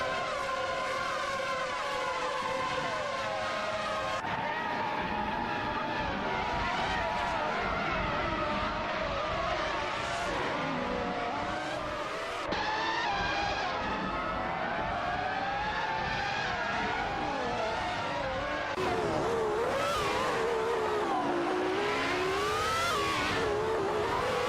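Simulated race cars tear around a track in a racing video game, engines whining and shifting pitch continuously as cars pass, with screeching tyres and gear changes over a long, dense stretch of loud, steady racing noise.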